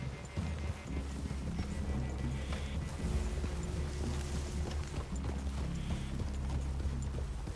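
Horse hooves clip-clopping in the video game Red Dead Redemption 2, a quiet steady patter of steps under a low ambient bed of mechanical and outdoor game sound, no clear voices.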